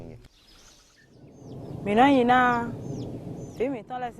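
Improved-breed chickens on a farm give a few loud clucks and drawn-out calls near the middle and end, with quieter rustling farmyard sounds between them.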